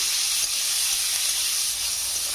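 A pan fries ingredients for a lentil dal with a steady, close, hissing sizzle that holds evenly throughout a short stretch, with no voices.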